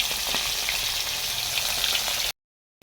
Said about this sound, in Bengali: এগুলো একটু ভাজা হয়ে যাক